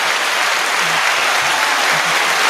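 Steady, dense applause from a crowd, continuous clapping at full volume throughout, cutting off abruptly at the end.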